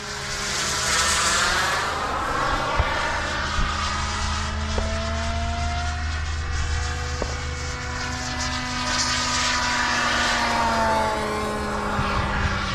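An RC model airplane engine drones steadily overhead before landing, its buzzing propeller tone swelling and fading slightly as the plane circles at moderate distance, with no talk.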